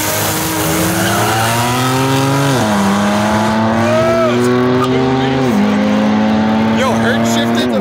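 A Toyota Mark V Supra launches in a drag race, its engine revving loud and high with stepped pitch climbs at each gear shift and a tire squeal, heard up close with voices over it.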